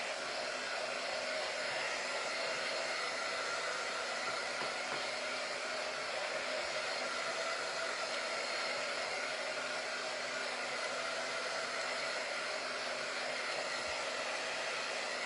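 A hair dryer blows steadily for about fifteen seconds while drying paint on a door hanger, an unbroken airy whir at moderate, fairly distant level.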